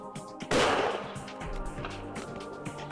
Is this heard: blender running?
no